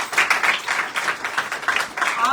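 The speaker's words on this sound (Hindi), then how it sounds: "जोरदार तालियां" Applause from a large church crowd at an evangelist's sermon, steady dense clapping that swells and continues throughout at moderate level.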